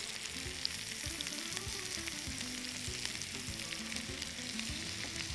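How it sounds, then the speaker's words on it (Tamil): Chicken and onions frying on a tawa for tawa chicken with green chillies: a continuous crackling sizzle with stirring and scraping of the pan, moderately loud, and no voices. "இப்போது இந்த வெங்காயம் நல்லா வதங்கிட்டு இதுலேயே சிக்கனை தூவ மாதிரி போட பாருங்க"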